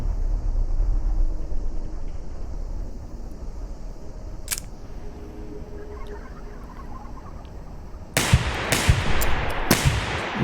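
Pistol shots in the Receiver 2 VR shooting game: a lone sharp crack early on, then a quick cluster of three or four loud reports near the end over a steady background hum.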